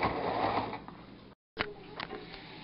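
A sewing machine stitches elastic onto a kids' pajama waist in a soft, continuous mechanical whir with light ticking, broken by one short silence in the middle.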